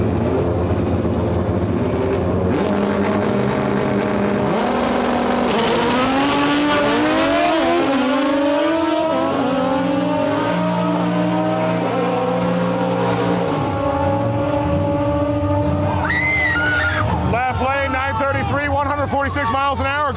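Two Honda EG Civic hatchbacks, naturally aspirated, launch side by side in a drag race, engines revving and climbing loudly through gear changes for about twenty seconds, with a commentator talking over the roar.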